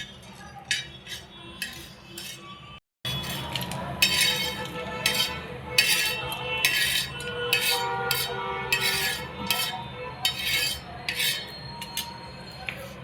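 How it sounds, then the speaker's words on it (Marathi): Sesame seeds roasting in a home kitchen pan, with a dense, steady run of small crackling pops and light metallic clinks, close and continuous over about thirteen seconds after a brief pause. "तीळ झाले भाजून तीळ तीळ कसं उडायला लागले बघा"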